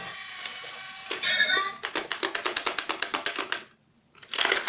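Coins rattle inside a money box as it is shaken, a fast, regular series of close metallic clatters that stops abruptly, then starts again briefly, with a brief voice at the start.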